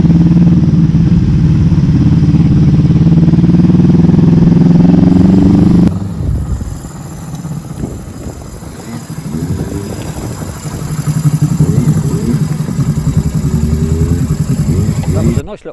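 A Honda CB250 K4 classic motorcycle on the move, its engine a loud, steady droning roar for the first six seconds, then settling into a quieter, rougher running note with wind and road noise as the ride continues.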